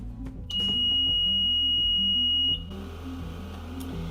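An oxygen concentrator powering on lets out one long, steady electronic beep lasting about two seconds, loud and close, over a low mechanical hum.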